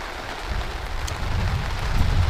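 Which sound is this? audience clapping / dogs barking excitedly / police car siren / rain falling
rain falling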